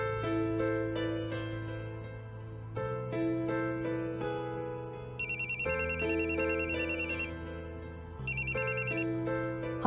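A phone ringing while a call is placed, a melodic ringtone tune repeating in steady phrases, joined by bursts of a higher trilling ring, clear and close with no talk.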